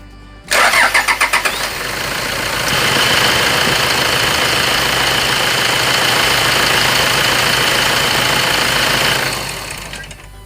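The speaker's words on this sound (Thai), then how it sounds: "เดี๋ยวเราไปสตาร์ทดูว่ามันติดไหมนะครับผม" A car with a hard-starting fault, just repaired, cranks in a quick rhythmic burst, catches and revs, then settles into a loud, steady idle for several seconds before shutting off.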